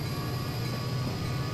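Train running in Transport Fever, a steady rumbling roll with a low drone and faint high tonal whine, continuous and moderately loud with no voices.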